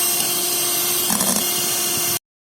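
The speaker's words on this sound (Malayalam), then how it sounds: "അപ്പം ഞാൻ എടുത്തിരിക്കുന്ന ഇലക്ട്രോണിക് ബീറ്ററാണ്." An electric hand beater whisks eggs for a chicken cake, a steady close motor whine with a brief rougher patch midway as the beaters churn the mix, then it cuts off abruptly.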